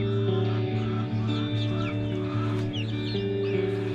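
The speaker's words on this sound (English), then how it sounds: "I have a Well Summer rooster there named Rudy" Welsummer chickens and a Welsummer rooster cluck and chirp steadily on a farm, many birds overlapping close by over a constant low mechanical hum.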